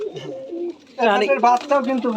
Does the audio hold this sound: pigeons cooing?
yes